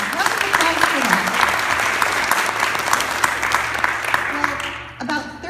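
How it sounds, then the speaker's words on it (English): An audience gives a sustained round of applause after a music performance, dense clapping that stays steady and loud before tapering at the end, with some voices talking over it. "Yeah, round of applause for"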